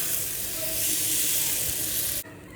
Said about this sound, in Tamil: மாவை எடுத்து ஊற்றி நல்லா ஸ்ப்ரெட் பண்ணி விடணுங்க.